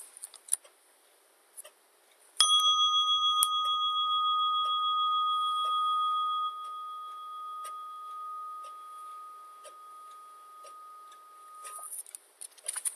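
A single struck meditation bell rings out clearly after a quiet opening, its pure tone sustaining and slowly fading over about nine seconds against near silence.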